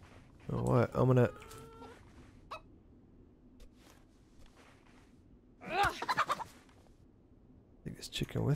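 A chicken clucks in the DayZ survival video game, sounding in two loud bursts of rapid, gobbling calls with quiet rustling and faint noises between them. The bursts come early and again near the end.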